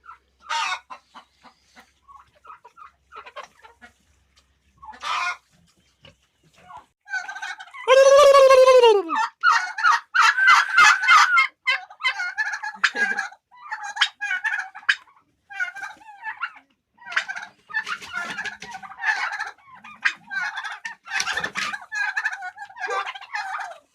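Turkeys fighting among themselves gobble and cluck repeatedly up close, with one loud drawn-out gobble followed by rapid, agitated bursts of calls and scuffling.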